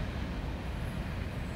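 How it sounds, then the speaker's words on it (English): An eastbound mixed freight train rumbles past as a steady, moderately faint broadband roar with no breaks, no voices over it. "That was the eastbound mixed freight train."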